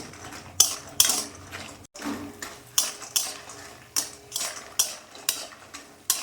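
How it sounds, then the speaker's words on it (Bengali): Homemade lentil bori frying in white oil in a pan while a utensil stirs and scrapes them, giving repeated close metallic clinks in an irregular rhythm over a faint sizzle, with no talking. "বড়িটা যতক্ষণ না ভাজছে ততক্ষণ নাড়াচাড়া করব"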